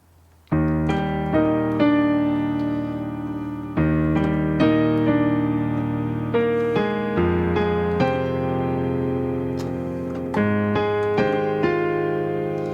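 Full piano chords with added fifths are struck one after another, each ringing out and decaying before the next, in a slow steady progression with no voices.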